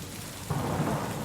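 Deep thunder rolling in a thunderstorm, a low rumble that swells louder partway through over steady rain hiss.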